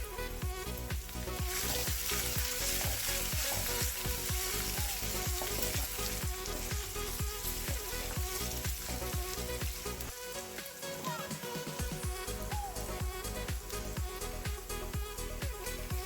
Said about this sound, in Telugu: ఇవి బాగా ఫ్రై అయిన తర్వాత ఇందులో పచ్చిమిర్చి కూడా వేసి వేయించుకున్నాం